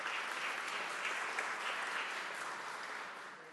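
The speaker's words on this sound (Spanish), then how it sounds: "Un aplauso también para todas y todos ustedes." Applause from attendees at a Chilean Senate seminar on municipal reform, a continuous, even roar of many hands clapping in a large room, slowly easing toward the end.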